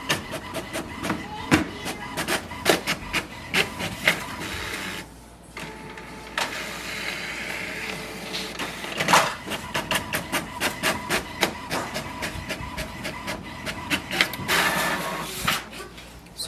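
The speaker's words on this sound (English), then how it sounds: "So automatically it will do the two-sided printing." HP Smart Tank 6001 inkjet printer running a two-sided print job, close by with rapid clicking and ratcheting of the print head and paper feed, a brief pause as the sheet flips, then more mechanical clatter.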